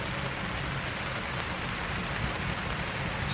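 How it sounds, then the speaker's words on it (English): Steady rain pours on the canvas of a 16-man tipi on a rainy night in camp, a dense, even patter that holds at a constant loudness throughout with no voices. "You hear the rain's picking up again."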